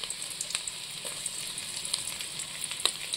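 Chopped ginger, garlic and green chilies frying in hot oil, a constant bright sizzle with scattered sharp pops and crackles, close and alone without talk.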